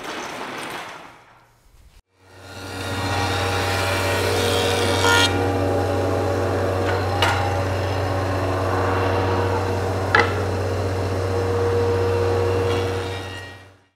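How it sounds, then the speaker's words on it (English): A thickness planer runs wood boards through, giving a loud, steady machine drone with a strong low hum that starts after a short pause and holds for about twelve seconds, with brief sharper bumps as boards feed. "now I'm ready to run these through the thickness planer"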